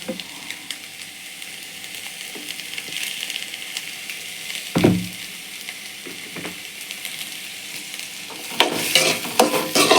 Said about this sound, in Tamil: ஒரு தக்காளி நல்லா வதக்கிக்கலாம்ப்பா கொஞ்சம் எண்ணெய் ஊற்றிக்கலாம்